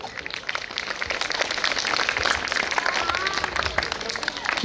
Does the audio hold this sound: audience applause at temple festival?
yes